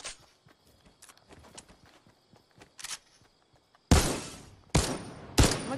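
Fortnite battle with a drum gun mentioned nearby: scattered faint gunshots crackle in the distance, then three loud, close sharp bursts of gunfire ring out in quick succession.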